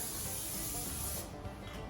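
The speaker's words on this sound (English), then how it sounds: "I just spray a little bit down here" Cooking oil sprays in a steady hiss onto a Blackstone griddle before grilled cheese sandwiches, one close continuous burst lasting over a second and then cutting off.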